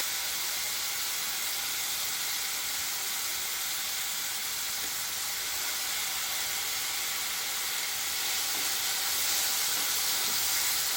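Onion and garlic paste frying in hot oil gives a steady, loud, continuous sizzle and hiss that holds for the whole stretch without pause, with no voices over it.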